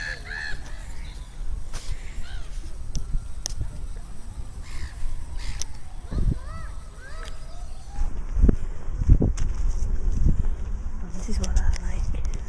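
A bird calls outdoors on a cold spring day, its harsh crow-like caws repeating in short bursts over wind and background noise, with people talking nearby.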